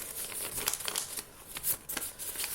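Paper being folded and creased for a handmade flower greeting card, close-up crinkling and rustling in quick bursts with a few sharper crackles, no voice.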